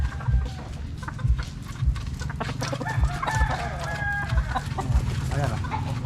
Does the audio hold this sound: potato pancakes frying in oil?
no